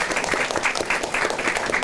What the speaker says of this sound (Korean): 여러분들에게 모두 박수를 드립니다.